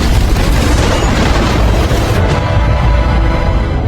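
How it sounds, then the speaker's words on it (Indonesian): A loud, rumbling explosion in a mining area fills the clip with dense low roar, then tapers into a duller rumble. "tiba-tiba terjadi ledakan di area pertambangan."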